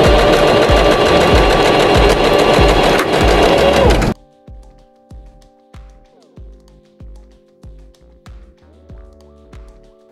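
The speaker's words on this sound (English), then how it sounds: "we are going to go to the sewing machine and sew with a 5/8 of an inch seam allowance" A sewing machine stitches a 5/8-inch seam on a knit top, running in a loud, fast, steady rhythmic chatter for about four seconds, then slowing to a series of separate soft thumps with quiet pauses between them.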